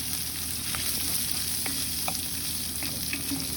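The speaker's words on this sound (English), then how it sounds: "I'm going to throw in the sofrito." Sofrito fries in a pan for a Catalan fideua, giving a steady close sizzle with scattered light pops and soft stirring scrapes, no voices.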